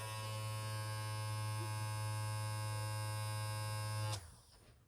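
Styl Pro makeup brush cleaner spinning a soft brush dry, a steady high-pitched electric whirring hum that cuts off abruptly near the end, leaving quiet.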